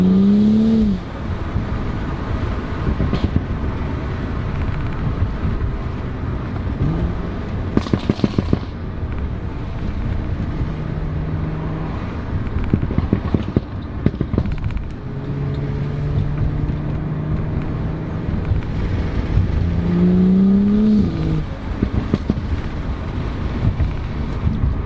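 Sharp exhaust pops and crackles from a modded catless BMW 135i during a drive, coming in irregular bursts of rapid gunshot-like bangs over the steady drone of the engine and road noise.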